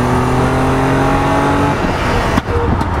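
A Datsun 240Z straight-six engine, 2.6 to 2.8 litres and around 150 hp, roars loudly at sustained high revs, then drops off with a sharp pop near the end, heard up close with no talk.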